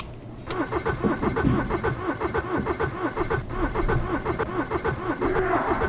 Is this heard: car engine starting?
yes